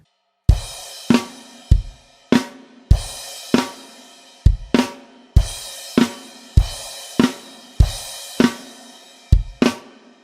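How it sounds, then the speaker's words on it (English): Loud drum hits in a steady pattern, each struck with a crash cymbal that rings and decays before the next, no voices; a drum part from a song. "The 3rd line we start to add some crash cymbals. Here's how it sounds."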